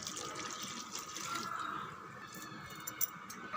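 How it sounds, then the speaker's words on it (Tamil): Water poured from a tumbler into a mixer jar in a home kitchen, a soft continuous trickle and splash that fades after a few seconds, followed by a couple of light clinks and drips. "ஜாரில் கொஞ்சம் தண்ணி விட்டு"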